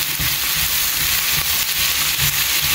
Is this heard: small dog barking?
no